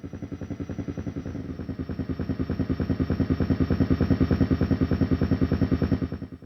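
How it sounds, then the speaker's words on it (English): Helicopter sound effect from a Strich SEP-150 88-key keyboard, a continuous rapid rotor chop with a low throbbing engine, holding steady and slightly swelling for several seconds before fading at the end. "Helicopter."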